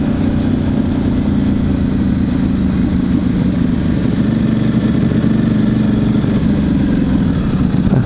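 A 2009 Buell 1125R motorcycle engine runs steadily with a loud, throbbing mid-range drone, close by and unbroken, with no clear revving peaks.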